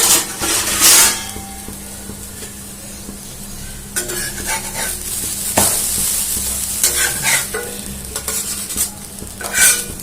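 Stuffed potato paratha frying in oil on a pan, a steady close sizzle with occasional scraping and clinking of a utensil against the pan, no talking.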